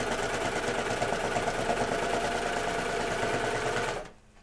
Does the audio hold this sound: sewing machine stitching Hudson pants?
yes